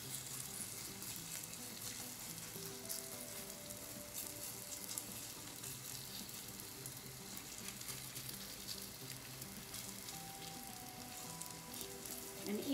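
Thin zucchini pancake batter, Korean jeon, frying in an oiled pan, a soft continuous sizzle and crackle running steadily for the whole stretch, close but quiet, with no one talking.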